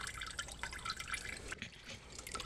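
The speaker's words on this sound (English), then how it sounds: "So you just let it sit upside down and the rest of the oil is gonna wanna pour out." Continuous patter of engine oil dripping and trickling from a drained oil filter set upside down, steady and close, with no voices.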